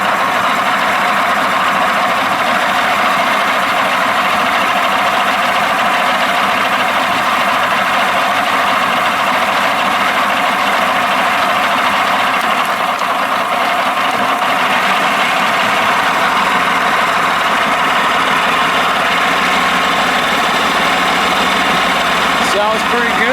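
A 1987 Johnson 70 hp outboard motor runs continuously at a steady idle-like rumble, loud and close for the whole stretch, with a little talk faintly under it.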